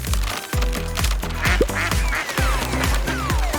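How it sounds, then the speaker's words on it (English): Cute little electric toy ducks quack in a quick rhythmic series, a steady run of honking, buzzy calls that are close and fairly loud, with a high whistling sweep and a slide-like squeak mixed in. "They're cute little electric ducks."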